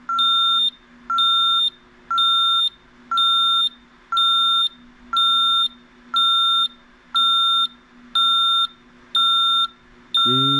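An ATD Safewatch 3000 / Brinks Ademco alarm keypad beeps steadily during its entry/exit delay, one sharp, loud electronic tone about every second, eleven in a row with no talking.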